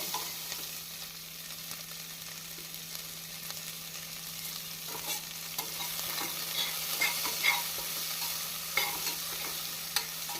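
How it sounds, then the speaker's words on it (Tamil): Big onions with rock salt sauté in a pan for chicken biryani, giving a steady close sizzle of frying with scattered scraping stir clicks throughout and no talking. "பெரிய வெங்காயம் போட்டவுடன் நாம் சிறிதளவு கல் உப்பு போட்டுக்கொள்ளலாம் இது வதங்குவதற்காக"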